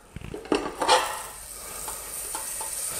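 Butter, about a tablespoon, heating in a pan, a soft sizzle that settles in after a few clattering knocks of a utensil against the pan near the start.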